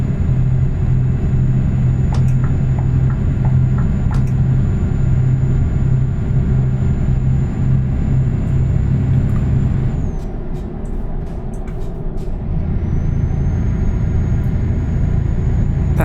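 Heavy truck engine in Euro Truck Simulator 2 drones loudly and steadily, with a sharp air-brake hiss and a brief drop in engine tone around a gear change, on a UK motorway.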